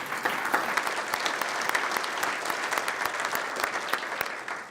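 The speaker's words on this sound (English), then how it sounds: "great round of applause" An audience at the St. George Area Chamber of Commerce 2019 address applauds the board members as they stand, a dense, steady round of clapping heard close and loud throughout without speech.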